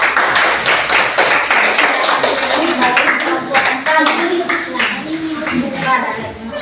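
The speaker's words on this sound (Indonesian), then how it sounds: "kita buat tepuk tangan untuk mereka" Loud, close clapping from a group after a class group discussion, with a brisk rhythm of hand claps and voices mixed in underneath.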